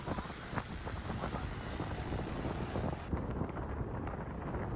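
Strong wind buffets the microphone in continuous gusty rumbles, loud and close throughout.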